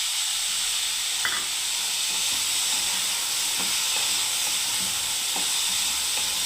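Three slit green chillies sizzle in a pan of vegetables, a continuous loud hiss with occasional scraping stirs, close by and without talk.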